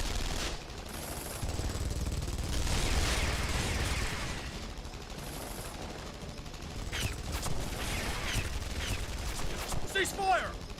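Gunfire in a Guilty Gear Strive story cutscene: sustained volleys of automatic fire from several guns at moderate volume, with voices speaking over parts of the barrage and sharp metallic pings near the end.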